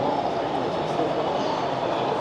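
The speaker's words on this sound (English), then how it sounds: "show as the train goes by and goes right through the city streets" Model train rolling through a city street layout at a train fair, a steady close rumble of wheels and running gear with faint voices behind it.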